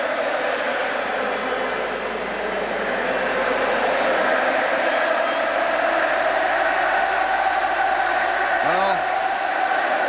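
A football stadium crowd at an England versus Northern Ireland match makes a steady, loud, distant roar that holds throughout, with a commentator speaking briefly over it.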